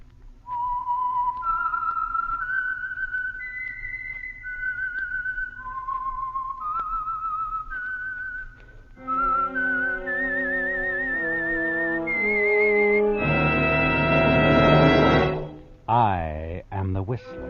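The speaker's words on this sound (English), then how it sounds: "the signal to listen for is this whistle that identifies the Signal Oil program, The Whistler." A lone whistler performs the signal tune of the Signal Oil radio program The Whistler, a slow rising-and-falling melody of clear sustained notes. An orchestral swell joins in and ends on a loud chord.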